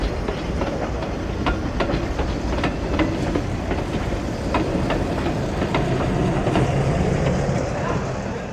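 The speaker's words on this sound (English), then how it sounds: "Look, the train from Gletsch is already approaching." A train on the Furka mountain steam railway comes in from Gletsch, rumbling steadily with a regular clickety-clack of wheels over rail joints, sustained and fairly close.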